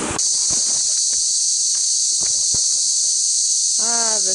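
Cicadas at night in Litchfield National Park, Northern Territory, a loud, steady high-pitched drone throughout, with scattered soft footsteps or knocks underneath and a short voice at the end.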